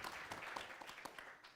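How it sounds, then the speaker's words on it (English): Audience applause after a talk at a conference event: a steady, faint patter of many hands clapping throughout, distant and even, with no speech. "A big round of applause"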